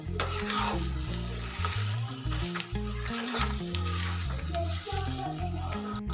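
Coriander-flecked potato filling for patties being stirred and sautéed in a pan, a steady scraping stir over soft sizzle, close and continuous, with music playing throughout.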